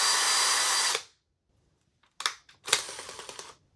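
A Ryobi 24V drill powered by an 18V Ridgid battery runs at a loud steady whine, then stops abruptly as the electric brake kicks in, followed by silence and several short clattering bursts and triggers.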